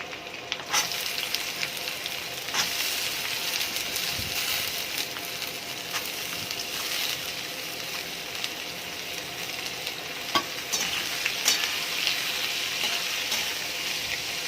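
Chopped onion and potato frying in hot oil, a steady close sizzle with occasional stirring scrapes running throughout, no voices.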